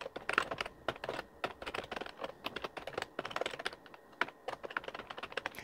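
Rapid, steady keystrokes on a computer keyboard entering a Linux command to rename a Klipper MCU firmware file, set up for a Neptune 4 Max 3D printer; close, crisp clicks with no talking.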